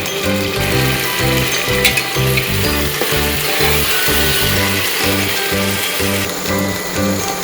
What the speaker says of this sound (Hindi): ये हमारे मसाले देखिए भून रहे हैं अच्छे तरीके से। तेज आंच पे भूनेंगे लगातार चलाते हुए।